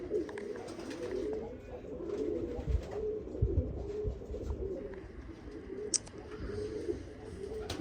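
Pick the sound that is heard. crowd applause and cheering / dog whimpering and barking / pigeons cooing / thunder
pigeons cooing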